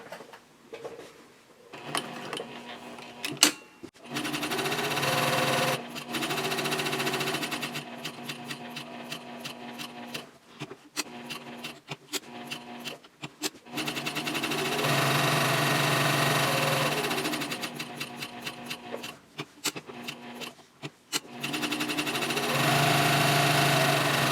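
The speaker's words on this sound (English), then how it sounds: "Now I'm going to do that stitching by following the line that we traced with the template." Sewing machine stitching a quilted A5 journal cover, running in several bursts of steady motor whir and needle clatter separated by short pauses, close and moderately loud with no voices.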